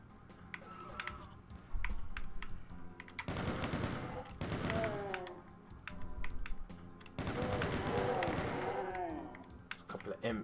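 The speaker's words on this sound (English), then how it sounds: "When you absolutely must kill every motherfucker in the room, you need to use the chain gun." DOOM II chain gun fires in rapid bursts of crackling shots during gameplay, with a voice talking over the shooting.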